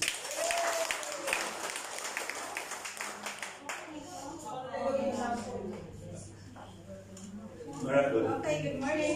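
Audience at a product demonstration event claps loudly for about four seconds, then the applause thins out as a voice begins talking.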